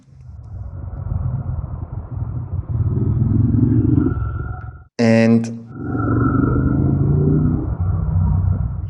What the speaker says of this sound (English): Now a moped is coming up behind me.